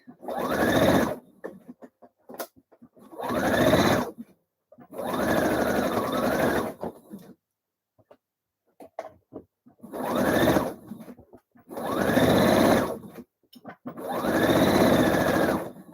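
A sewing machine stitches a blouse seam in six separate runs of a few seconds each, with quiet pauses between them, close and fairly loud.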